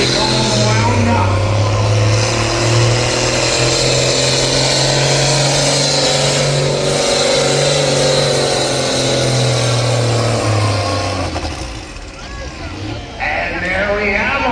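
A pulling tractor at a tractor and truck pulling championship on a twin track, its engine straining with a loud, sustained roar that holds steady before dropping off near the end, under loud commentary from an announcer.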